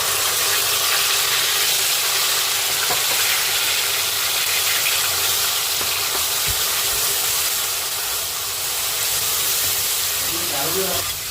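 Spice paste for a spicy village-style river prawn and egg curry hits hot oil and fries with a loud, steady, broadband sizzle and hiss that holds throughout, close up, with a faint voice under it near the end.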